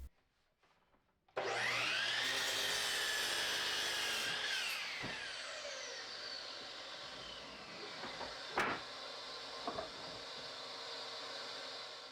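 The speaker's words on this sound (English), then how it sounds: "Go cut everything on the miter saw." A miter saw whirs up loudly and bites through 2x4 wood with a rising whine, then keeps spinning with a few knocks and clatters nearby.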